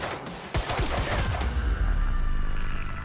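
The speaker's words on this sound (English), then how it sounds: "Target's armed. Opening fire!" Dense, sustained gunfire in the video game Quantum Break fills the whole stretch, with a sharp burst of overlapping shots followed by continuous rattling volleys and echoing reverb, loud and close.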